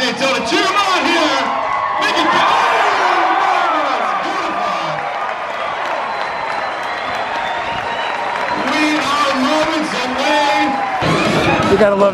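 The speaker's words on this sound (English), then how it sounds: "Make some noise, Daytona. Cheer them on here." A baseball crowd on opening night for the 2021 Daytona Tortugas cheers loudly, with whoops, yells and clapping swelling together while music plays underneath and an announcer's voice cuts in.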